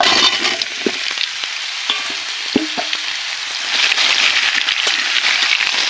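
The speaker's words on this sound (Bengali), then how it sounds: "আমগুলো এভাবে নেড়ে চেড়ে নিতে হবে" Cut ripe mango pieces are stirred in a hot frying pan for a mango pickle, a bright crackling sizzle broken by clinks and scrapes of the spoon, louder toward the end.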